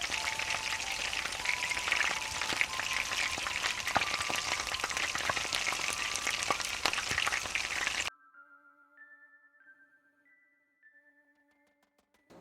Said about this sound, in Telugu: నూనెలో వేసి బాగా వేయించాలి.